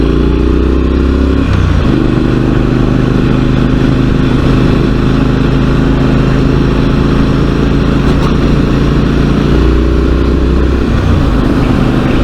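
A motorcycle engine runs steadily while riding around bends on new tyres, a loud, continuous drone with low rumble and a brief dip in pitch partway through, no voices present.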